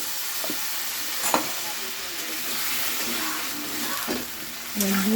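Potatoes and spices frying in a pan for an eggplant-and-hilsa curry, a steady hiss of sizzling broken by a few scraping stirs and utensil taps, with no talking.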